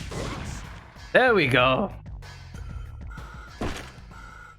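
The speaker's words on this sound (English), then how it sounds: "shoot him in the spine with a grenade launcher is the way to go" Grenade launcher firing at a monster in Parasite Eve 2, a couple of heavy thumping blasts with a crashing impact and game effects, while someone talks briefly over the action.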